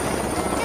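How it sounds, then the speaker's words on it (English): A helicopter sound effect of steady rotor and engine noise, loud and continuous for under a second, heard alone inside a children's alphabet phonics song. "H for helicopter."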